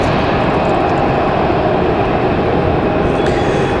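A Delta jet airliner bound for Boston takes off from Raleigh-Durham International Airport, a loud, continuous engine roar that stays close and steady throughout.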